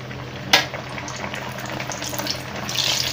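Bhature go into hot refined oil and fry, starting with a sharp splash and then settling into a continuous close bubbling sizzle that rises slightly toward the end.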